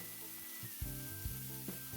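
Onions sauté in a pan with turmeric, ginger-garlic paste and cumin powder for chicken keema paratha, giving a steady close sizzle broken by brief scrapes of stirring.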